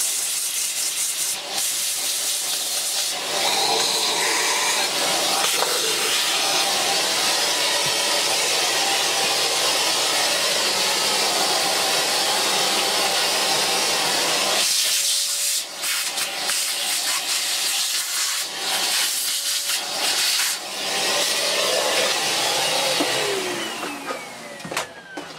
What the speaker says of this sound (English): obviously this is a cordless vacuum